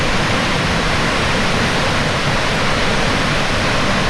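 A waterfall in the Australian outback rushes as a dense, steady roar of broadband water noise, loud and unbroken with no voices.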